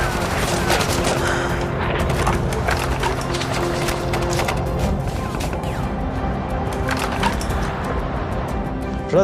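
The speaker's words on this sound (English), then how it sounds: "The enemy kept firing at us." Enemy gunfire from the 1999 Kargil war rattles in dense, continuous bursts of cracking shots over a loud, rumbling battlefield background, with faint voices underneath.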